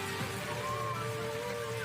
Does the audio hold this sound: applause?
no